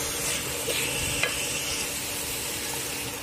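Squash sautéing in a pan is stirred with a utensil, a close, steady sizzle broken by a few scraping stirs, with no voices.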